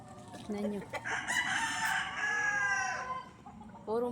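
A rooster lets out one long, loud crow close by on a small mini farm, preceded by a short cluck, with other chickens clucking softly around it.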